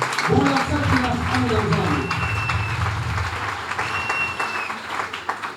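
Crowd applause at a large religious gathering in Pointe-Noire, steady clapping filling the space while a voice speaks over it and a few chirps cut through.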